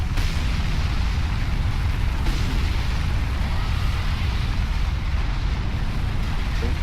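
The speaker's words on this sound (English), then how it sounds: "when this guy stands up, the ballista will shoot at us, but it'll hit him, and it'll eventually kill him" Heavy bolts fired from a ballista in the video game Dark Souls 3, a dense, loud rumbling barrage of booming impacts that runs continuously with no gaps.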